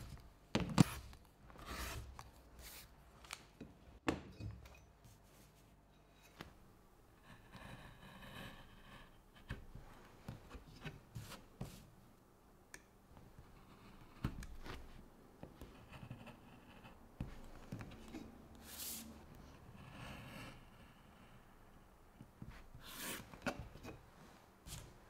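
Paper patterns glued onto reinforcement card are cut out by hand for a leather bifold wallet, quiet crisp snips and scratchy slicing strokes in irregular bursts with pauses, close and alone without voices.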